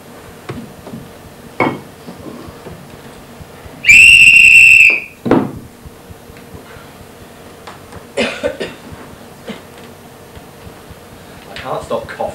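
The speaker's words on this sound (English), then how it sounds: "I can't stop coughing" A few sharp coughs scattered through a quiet theatre during a stage play, alongside a loud high whistle-like tone and faint clatter.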